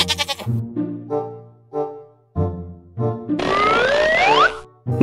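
Goat bleating close up in a series of short wavering calls, followed by a longer sliding squeal near the end, with no one talking.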